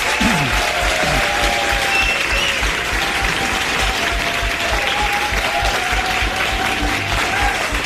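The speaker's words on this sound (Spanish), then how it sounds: "Uno de Las Palmas, un aplauso para vosotros." Loud, continuous applause from a large audience at a mystery congress, a dense wash of clapping that stays level throughout with a faint murmur of the crowd beneath it.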